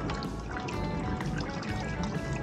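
Coolant trickling and dribbling out of the radiator drain of a Kymco DTX 360 scooter, a steady close liquid stream with small splashing droplets, continuous throughout with no talking.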